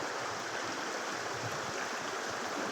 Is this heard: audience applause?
no